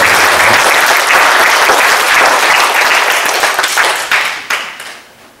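A church congregation applauds in a service, a loud, full roar of clapping that stays steady for a few seconds before breaking into scattered claps and dying away.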